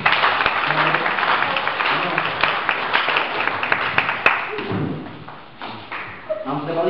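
Audience in a small hall at an Advent afternoon magic show clapping for a volunteer, a dense burst of applause with scattered louder claps that thins out toward the end, with some murmuring underneath.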